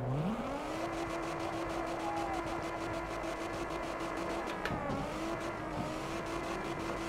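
A Nissan R32 Skyline in the CarX Drift Racing video game reverses into a drift, its engine climbing and holding a steady high rev while tires squeal and skid, loud and continuous throughout.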